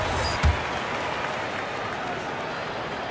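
A home crowd in the NBA 2K26 video game applauds a made free throw, a steady wash of clapping and cheering throughout with one brief louder thump near the start.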